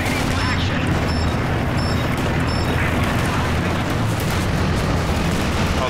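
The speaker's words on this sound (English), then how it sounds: "I just dropped a strafe there" Strafe airstrike explosions in Company of Heroes 2 during a 4v4 match on the City 17 map, a dense continuous roar of booms and bursts that stays loud throughout, with battle noise packed tight.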